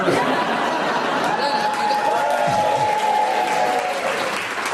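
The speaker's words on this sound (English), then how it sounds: "I'm challenging the audience because they keep clapping and that's repetition." A studio audience at a radio panel game applauds continuously and loudly. Laughter and a murmur of crowd chatter run through the clapping.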